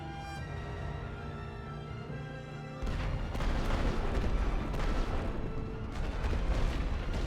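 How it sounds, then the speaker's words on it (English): Heavy artillery fire in a war video game, a sustained barrage of deep booms and bursts that starts abruptly partway through and keeps rumbling loud and dense to the end. "We go heavy artillery there."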